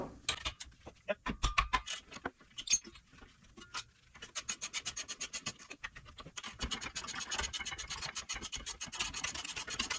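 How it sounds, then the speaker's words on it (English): Sharp metallic taps ring out in irregular bursts, then settle into a rapid, steady run of hammer strikes on a ratcheting wrench breaking a bolt free on a Honda Odyssey rear brake, close and fairly loud. "tap with my hammer to break it free"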